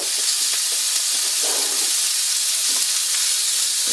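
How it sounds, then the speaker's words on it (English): Pork chops browning in a hot cast iron pan give off a steady, close, loud sizzle and hiss that holds without a break, with faint crackles and pops inside it. "Now the idea is I'm going to be just browning these."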